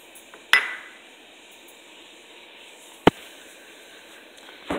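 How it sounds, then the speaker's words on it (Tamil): A utensil clinks against a cooking pot as semolina is stirred into boiling salted water for kesari sweet: three sharp, separate metallic knocks, spaced about two seconds apart, close by, over a quiet simmering background. "இந்த ஸ்டேஜில் நம்ம ரவையை போட்டு கலந்துடலாம்."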